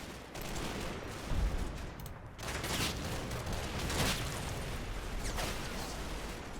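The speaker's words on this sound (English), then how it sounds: "And some of the least accurate machine gun fire in history." Automatic gunfire crackles through a Combat Mission battle in Normandy hedgerows, short inaccurate bursts with a louder thump near the start and another near four seconds over a constant dense rumble of combat noise.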